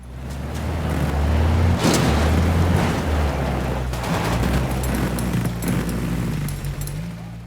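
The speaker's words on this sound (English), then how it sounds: "the miniguns mounted on top of vehicles just sound like shit. They sound like pellet guns." Rapid gunfire from vehicle-mounted miniguns in Ghost Recon Wildlands, a dense, continuous rattle of shots layered over rumbling engine noise, loud and sustained with bursts of impacts throughout.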